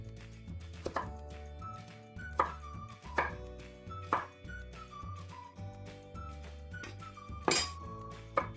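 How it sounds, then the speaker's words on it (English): A knife chops carrots by hand into thick julienne strips on a cutting board, with sharp, evenly spaced knocks about once a second over a quiet background and faint musical tones. "I'm showing you how to julienne the carrots by hand."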